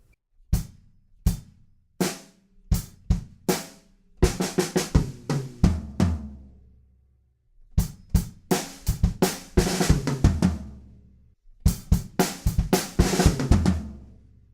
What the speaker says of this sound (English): the second time around there's a different fill with some 30-second notes on the snare